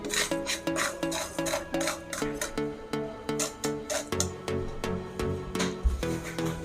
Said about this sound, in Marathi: आता ही साखर व्यवस्थित अशी हलवून घ्यायची आहे